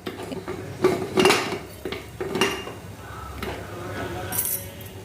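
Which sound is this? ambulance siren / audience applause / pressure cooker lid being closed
pressure cooker lid being closed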